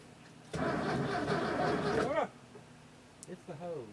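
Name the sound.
car engine being cranked and started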